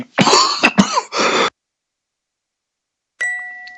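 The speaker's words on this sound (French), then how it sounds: "je souffre de la toux, donc je m'excuse pour ça" A man coughs and clears his throat several times in quick bursts at the end of a French news bulletin, followed by silence and then a brief ringing chime.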